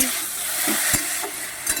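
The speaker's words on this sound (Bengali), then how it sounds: "ভেন্ডি ভাজতেছি" Sliced okra frying in a pan, a steady close sizzle with a few soft scrapes and knocks as it is stirred, with no talking.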